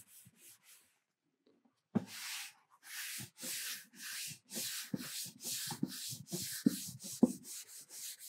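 A clean towel rubs excess epoxy finish off an archtop guitar, a series of close, rhythmic swishing strokes after a brief pause, each stroke soft and brushy.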